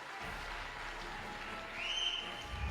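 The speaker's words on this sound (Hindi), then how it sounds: "जबरदस्त तालियां हो जाए इनके लिए" Applause from an audience at a Modicare gathering, a soft, steady wash of clapping heard from a distance, swelling slightly near the end.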